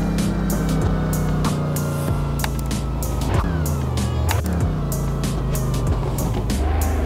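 Brabus GT900 engine in a Roblox driving game, revving and easing off throttle with steady droning tones, falling pitch sweeps and a string of sharp pops and crackles, loud and up close with no voices.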